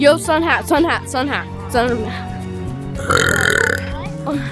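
A loud burp let out close up in someone's face in a public place, a rough, drawn-out belch of about a second arriving after people talk, with a short spoken reaction just after.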